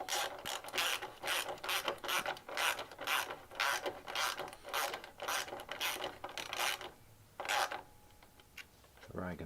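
Bolts on a Honda Grom fender eliminator kit are tightened with a ratchet, giving a rapid series of close, sharp clicking bursts repeated over several seconds, ending in a brief pause and a low thump.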